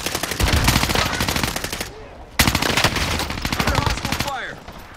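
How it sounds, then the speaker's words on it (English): Rapid automatic gunfire from a video game in two long bursts separated by a short pause, loud and close, with scattered single shots and effects trailing at the end. "Under hostile fire!"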